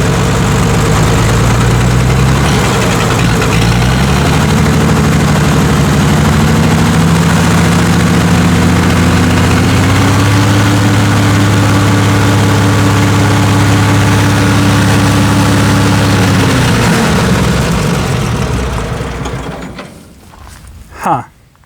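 The engine of a Massey Harris 102 tractor runs close and loud, a steady heavy rumble that rises in pitch as it revs up, holds, then drops back and cuts off near the end.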